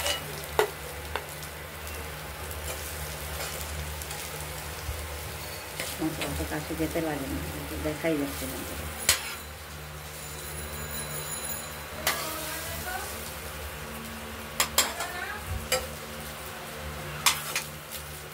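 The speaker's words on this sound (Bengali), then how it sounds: "কোপ্তা কারির বড়াগুলো ভাজা হয়ে গেছে" Kofta curry balls fry in hot oil with a steady crackling sizzle through the clip, broken by occasional louder pops and clinks, while someone talks intermittently over the cooking.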